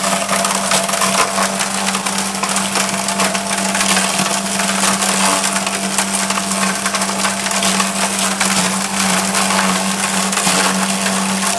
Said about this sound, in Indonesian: Mesin cacah ini untuk mencacah daun kering itu.